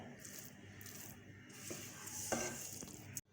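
Semolina halwa with raisins roasting in oil in a pan, a soft continuous sizzle with scraping stirs and a brief spoon clink before an abrupt cutoff.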